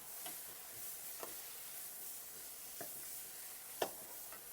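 Garlic, ginger, chopped tomato and carrot are stirred in a pan for tomato soup, giving a soft steady sizzle broken by a few faint utensil scrapes and clicks, close and quiet with no talking.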